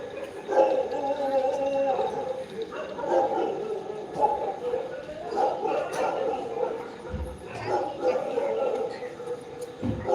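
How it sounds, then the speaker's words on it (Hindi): Dogs bark and yip repeatedly in the background during a live Awadhi folk-song stream, fairly faint and mixed under the room sound. "कुत्ते बहुत भौंक रहे हैं।"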